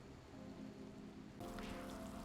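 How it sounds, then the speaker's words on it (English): Soft, steady rain patters during a storm in RimWorld, a faint even hiss that thickens slightly partway through, with no voices. "It's stormy and raining."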